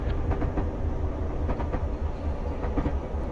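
A Class 66 diesel locomotive in Train Simulator Classic runs steadily with a loud, continuous engine drone and wheel rumble, with faint rhythmic clicks on the rails.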